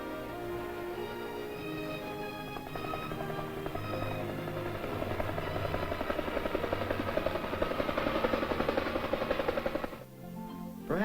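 A military helicopter used for evacuating the wounded, heard as a loud, continuous rotor thrum with rapid chopping pulses that builds steadily and cuts off sharply near the end, with no talk.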